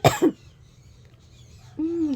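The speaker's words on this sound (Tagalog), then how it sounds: "Di ubo si mama." Two quick, husky coughs open the clip, followed by a short pause and then a low hooting vocal sound, close by.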